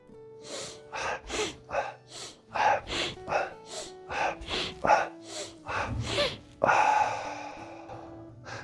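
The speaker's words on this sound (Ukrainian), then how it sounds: "Вільний вдих, видих." Rhythmic breathing exercise in the Strelnikova style: a rapid series of sharp, forceful nasal inhales and exhales, close and loud, in a steady pulse of about two per second, ending with a longer breath.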